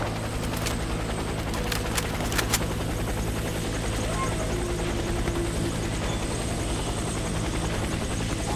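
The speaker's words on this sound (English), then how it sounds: "Helicopter is inbound" Helicopter arriving in the military shooter game Warface, a steady low rotor drone running throughout with scattered gunfire bursts and other game noise layered over it.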